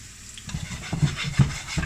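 Garlic frying in a pan for braised tofu, a gentle sizzle with quick close spatula scrapes and knocks every fraction of a second.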